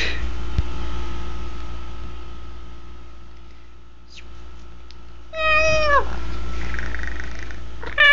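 A cat playing with yarn gives one clear, drawn-out meow partway through, close and fairly loud, after a stretch of quiet room hum; a fainter cry follows.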